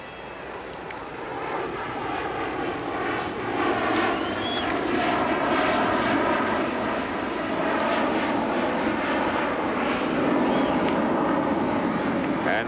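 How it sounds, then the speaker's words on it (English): Airplanes roar low over Shea Stadium during a 1986 Mets–Astros playoff game, a loud sustained engine drone that swells and holds over the crowd, with a broadcaster talking beneath it. "the airplanes have been flying now right over Shea for the better part of 5 hours"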